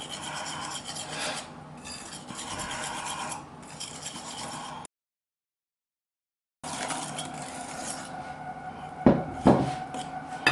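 Apple cake batter being mixed with flour in a bowl, a steady rasping, scraping stir, close and moderately loud, broken by a short silent gap and then a few sharper clinks of the utensil against the bowl.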